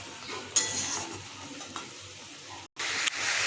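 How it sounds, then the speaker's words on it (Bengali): Spice paste (masala) sautéing in a pan, a close hissing sizzle with stirring scrapes and a couple of utensil knocks, one brief drop-out near the end, no talking. "মশলাটা একটু কষাবো যে একটু কষা কষা হবে"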